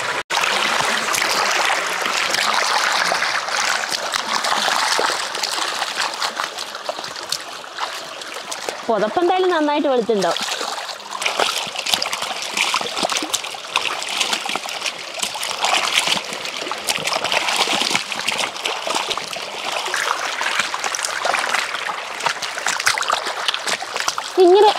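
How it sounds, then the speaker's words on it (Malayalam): A blanket is sloshed and splashed about in water while being washed, with continuous watery churning and someone talking over it throughout. "നമുക്കിത് വെള്ളത്തിലോട്ട് എടുത്തിടാവേ"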